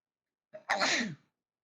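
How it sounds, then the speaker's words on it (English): A single sneeze, beginning with a short sharp intake of breath and then a loud, breathy burst that fades quickly into silence. "A sneezing fit has occurred."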